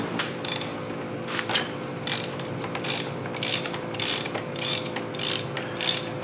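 A ratchet with an extension and socket works loose the oil filter on a 2003-on Saab 9-3 2.0L four-cylinder Ecotec, giving close, crisp clicking bursts in a steady stroke-by-stroke rhythm over a faint background hum.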